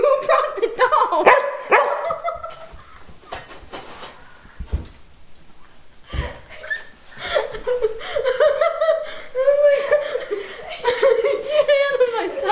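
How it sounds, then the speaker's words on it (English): A dog barks in several sharp bursts close by, mixed with laughter and people talking throughout. "Cheryl, who brought the dog?"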